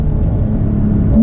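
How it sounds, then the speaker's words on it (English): A Porsche 992 Carrera 4S with PDK gearbox accelerating, a steady close engine rumble that swells and rises in pitch toward the end, heard from inside the cabin with no talking. "There's a little acceleration for you."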